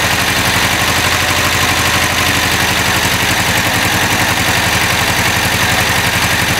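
A Renault 11 1.4-litre engine idling on a Rapid F40 carburettor set up for a 1.1 litre, running steady and loud with an even close-up throb and no voices.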